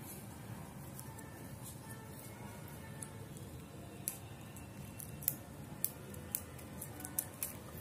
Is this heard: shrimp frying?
no